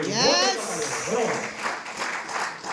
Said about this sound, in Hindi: एक बार जोरदार तालियां बजाओ सर।